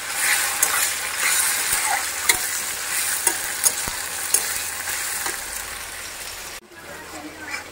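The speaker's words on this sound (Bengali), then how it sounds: "দুদিকে 2টো কড়াই বসিয়ে দিয়েছি, দুদিকে 2 রকম মাংস করে নেব।" Buffalo meat spiced with masala sizzles steadily as it fries in two woks, broken by occasional scrapes and knocks of a stirring spoon against the pan, close and continuous.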